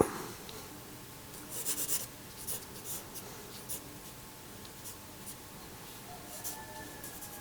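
Pencil scratching across paper during a simple drawing, a steady soft rasping with small louder strokes, close and fairly quiet, no voices.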